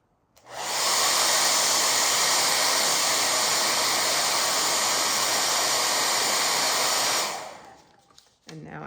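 A hair dryer blows on a watercolor painting of a peregrine falcon, switching on with a rush into a loud, steady, hissing roar for about six seconds before winding down and cutting off.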